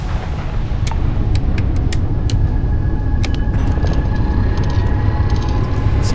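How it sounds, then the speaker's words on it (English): A spaceship's jump drive spools up in a video game, giving a loud, continuous low rumble that holds steady throughout, with faint higher tones and sparse clicks riding on top. "Spooling up."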